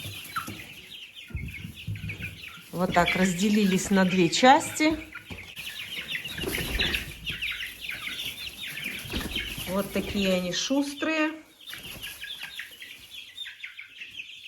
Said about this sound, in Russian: Очень много петухов.